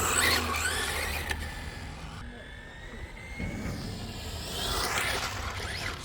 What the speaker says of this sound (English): As soon as I touch full throttle, it spins.